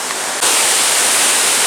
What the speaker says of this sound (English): Oh, rain, here we go again.